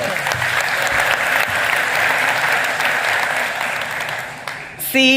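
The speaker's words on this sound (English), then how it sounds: "one more round of applause for Liza, please" A room full of people applauds steadily for Liza after she is introduced, a dense, even wash of clapping that holds at full strength before tapering, with a brief louder sound at the very end.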